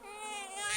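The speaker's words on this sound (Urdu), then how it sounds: "اسے ایک بچے کے رونے کی اور شیر کی آواز آتی ہے" An infant cries in the jungle with a thin, sustained wail that slowly rises over less than a second, moderately faint and heard alone.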